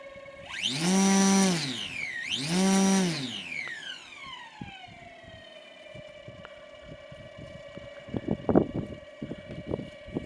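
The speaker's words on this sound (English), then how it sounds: "Motor throttle active." Electric motor of a Maiden Carf 330sc hybrid 2.3 m model aircraft with a StinGR85 belt drive, spooling up twice in loud rising-and-falling whines, then settling to a steady idle hum with some clicks and knocks near the end.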